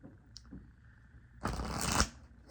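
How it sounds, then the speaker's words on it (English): A deck of Lenormand cards is shuffled up close in one quick riffling burst after a near-silent pause. "We're gonna pull some Lenormand cards."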